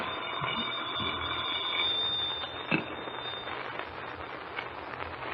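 An old-fashioned telephone bell rings in a steady, continuous trill that fades partway through, with a click and some faint crackle afterward.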